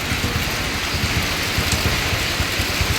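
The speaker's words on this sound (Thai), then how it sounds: "ฝนตกแรงมากๆเลย" Heavy rain pours steadily onto a flooded entrance in front of a house, a dense, loud, unbroken hiss with splashing patter throughout and no voices.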